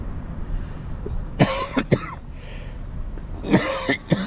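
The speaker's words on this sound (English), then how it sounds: "Pardon my coughing" Several harsh coughs close by, a pair early on and another burst near the end, over a quiet outdoor background in Branson, Missouri.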